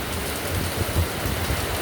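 Steady rain falls on a morning at a motorcycle repair shop, a dense, continuous hiss with a low rumble underneath, fairly close and even throughout, with no voices.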